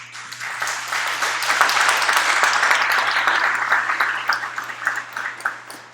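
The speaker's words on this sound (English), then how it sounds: "So let's give a round of applause for that." Audience applause at a live-streamed keynote event, a dense wash of clapping that swells over several seconds and then thins out, with a steady low hum underneath.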